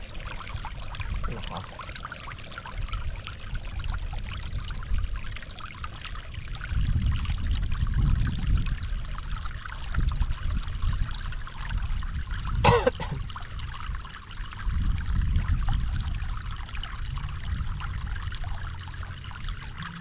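Water gushes out during crop irrigation in a continuous rushing flow that swells in periodic surges, with one sharp click near the end and no talk.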